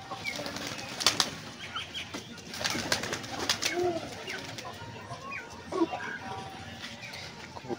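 Pigeons come out of their coop on a farm, with wing flaps, soft coos and shuffling at close range; someone speaks over them in places.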